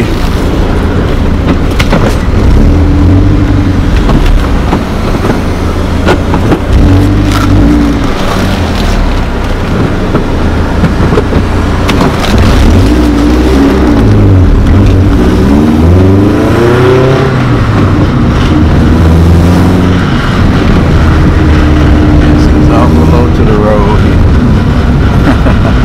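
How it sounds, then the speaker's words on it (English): A 2020 Chevrolet Corvette C8 on a street test drive, its engine roaring loudly and steadily with rising and falling revs throughout, with faint voices underneath. "We just took it down the street for a little test drive and and it's making some noise and stuff."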